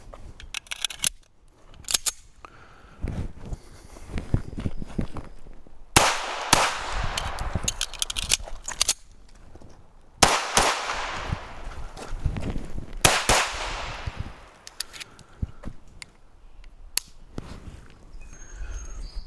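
Handgun shots fired during an IDPA stage demonstration with cover and a wall, sounding as sharp, loud cracks in irregular bursts and pairs across the stretch, with quieter handling noises between strings and no talk.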